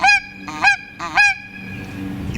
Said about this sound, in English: If you said the Canada goose, you're right.